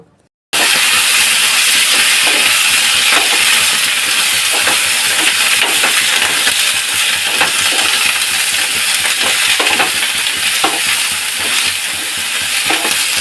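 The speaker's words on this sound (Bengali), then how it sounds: "সর্ষের তেল গরম হলে হাফ চামচ কালো জিরে একটা শুকনো লঙ্কা আর চারটে চেরা কাঁচা লঙ্কা দিয়ে কাটা বেগুনগুলো দিয়ে দেব" Cut eggplant pieces drop into hot mustard oil with nigella seeds, a dried red chilli and slit green chillies, setting off a loud, steady sizzle and hiss with occasional utensil clinks as they are stirred.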